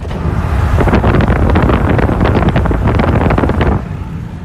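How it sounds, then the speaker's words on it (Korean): Loud, steady wind buffeting a microphone, a continuous roar with gusty rumble that cuts off sharply near the end. "여러분 바람 소리 한번 들을래요?"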